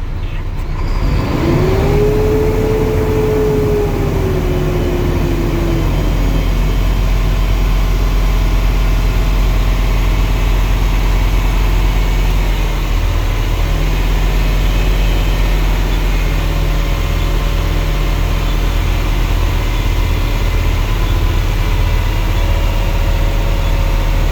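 A Class A CDL truck's diesel engine idles steadily while the air system builds brake pressure, a constant low rumble with a brief rising whine early on, loud and close with no talk.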